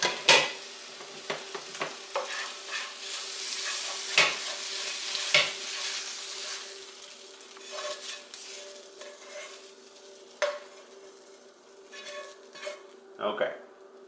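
Scrambled eggs sizzle steadily in a frying pan while a utensil stirs and scrapes, with sharp clinks against the pan scattered throughout and a constant frying hiss underneath.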